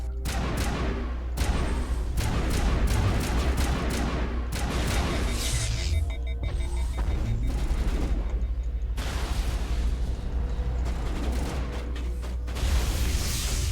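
Gunfire in the Mass Effect video game, with dense, loud bursts of weapon shots and blasts running continuously and heavily layered, and no clear speech over it.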